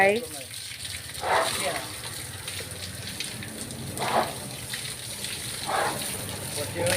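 Water gushes and splashes steadily while elephants are bathed in the morning, with several louder surges of spray over a constant rushing wash.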